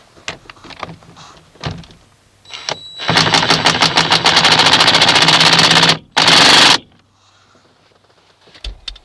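An impact wrench spins the steering wheel nut back onto a 1988-1998 Chevy K1500 steering column, a loud sustained rapid rattling burst of about three seconds, a short gap, then a second brief burst, with scattered clicks and handling noises around it.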